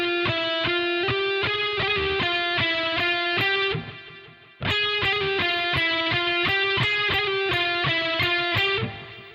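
Overdriven electric guitar plays a quick hammer-on and pull-off lick, the rapid phrase played twice with a brief gap between, loud and clear with no voice.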